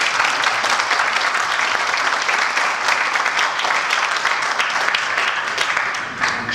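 Dense, sustained applause fills a symposium hall at an otoneurology conference in Fès, Morocco, as the audience claps warmly for a professor, easing slightly near the end.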